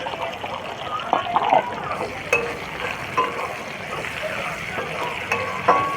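Chopped onion frying in a pan for stuffed patol with paneer, a continuous close bubbling sizzle with scattered stirring clinks and a low voice murmuring underneath.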